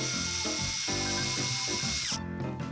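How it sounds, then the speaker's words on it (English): A power drill whirs loudly and steadily while drilling mounting holes for a security camera, its motor pitch dipping in a few pulses as it bites into material, then winding down near the end. "drill holes where they are marked on the template"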